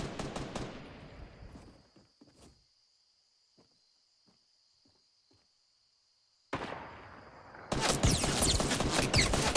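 Gunfire in the Fortnite video game, played on PS4, with loud rapid bursts at the start and a dense volley at the end, separated by a quieter stretch of faint, scattered shots.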